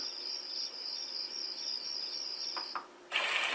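A BuffBee sound machine plays a summer night setting with a steady, pulsing trill of crickets that cuts out near the end before a burst of broadband noise.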